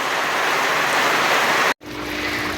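Steady rain pours onto a home tilapia fish pond, a dense, loud hiss of drops on water filling the clip, cut by a brief silent gap before the downpour resumes slightly softer.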